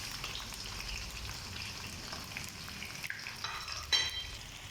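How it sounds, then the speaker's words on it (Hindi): Large slices of onion frying in hot ghee in a pan, a steady crackling sizzle with soft stirring, punctuated near the end by a sharper spatula clink, close and unbroken by speech. "प्याज हम गोल्डन कलर आने तक इसको फ्राई कर लेंगे"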